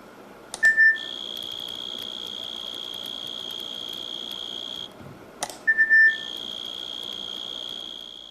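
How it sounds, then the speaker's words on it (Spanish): Two bursts of synthesized cricket song played through a loudspeaker in a fly-behaviour experiment, each a sustained electronic chirping tone lasting several seconds, loud and clear over a quiet hum. "Cuando suena por el altavoz el canto sintetizado de un grillo"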